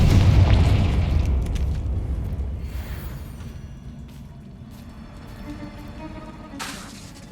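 Confringo fire spell exploding in Hogwarts Legacy, a deep booming blast up front that rolls into a long, fading rumble with faint crackles and ringing tones trailing off.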